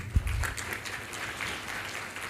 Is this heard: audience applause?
yes